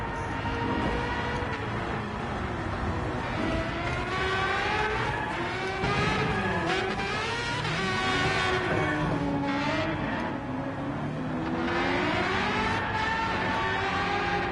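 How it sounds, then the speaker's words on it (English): A BMW M3 E46 GTR race car in Gran Turismo 7 roars steadily as its engine climbs and drops through gear changes, a constant close-up racing drone with no pauses. "So currently in the BMW M3 E46 GTR."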